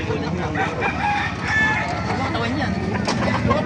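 Many chickens cluck and squawk together at a poultry market in Baliuag, Bulacan, with a rooster crowing amid a busy, noisy crowd and voices talking in the background.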